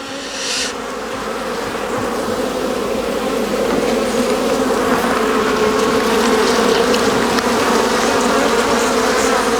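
Honey bees swarm around brood-nest frames pulled from an overly strong beehive, a dense, steady, loud buzz close by and continuous throughout.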